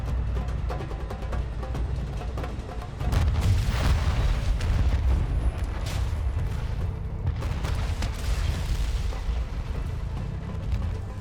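Missile silo strike in Call of Duty Warzone sets off a dense, continuous barrage of loud booming explosions with deep rumble, swelling heavier after the first few seconds and rolling on without pause.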